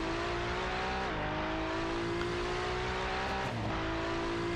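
Onboard engine noise from a GT race car at Suzuka during a GT World Challenge round, a loud continuous drone with pitch drops near one second and again past three and a half seconds, like gear changes.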